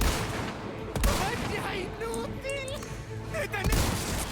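Enemy gunfire in the video game Resident Evil 4 Remake: two sharp shots about three seconds apart, heard under excited talking.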